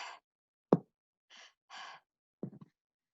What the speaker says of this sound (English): I'd like you to take a deep breath in and out through your mouth